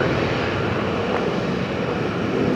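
Aircraft landing on runway 01 right at Brisbane Airport at night, a continuous loud engine roar with a broad rushing tone and no speech.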